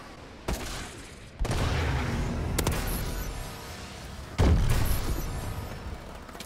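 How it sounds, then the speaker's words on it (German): An allied missile strike in the video game Advanced Warfare lands as several heavy booming impacts that rumble continuously in a loud, dense barrage, with no talking. "Verbündeter Raketenschlag kommt."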